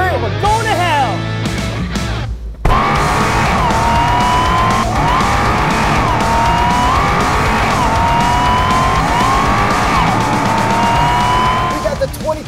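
A 2023 Dodge Charger SRT Hellcat Redeye Widebody Jailbreak V8 doing a burnout: loud engine revving with rising and falling pitch, then a brief cutout and sustained roaring wheelspin with squealing tires, close by, with some voices.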